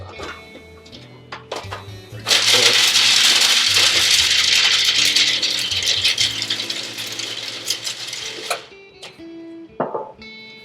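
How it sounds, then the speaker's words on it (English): Harsh ratcheting mechanical grinding of ingredients for baklava, loud and continuous for about six seconds, framed by a few short clicks and rattles before and after. "I'm going to go ahead and grind up a little bit more"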